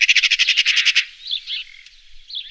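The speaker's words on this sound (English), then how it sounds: "It's a magpie." A magpie gives a loud, close chattering call: a rapid burst of about ten harsh rattling notes, then a few softer trailing chirps.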